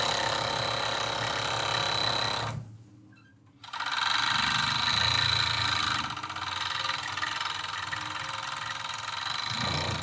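A serger overlocking scrap fabric seams for a shirt runs with a fast, steady mechanical whir, close and continuous. It stops for about a second, then starts again and keeps running to the end.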